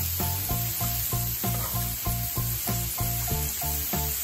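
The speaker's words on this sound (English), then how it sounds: "And our onions and peppers are cooking down just how I like it." Onions and peppers frying in a pan for pepper steak, a loud close sizzle broken by a regular rhythm of stirring strokes, roughly two a second, throughout.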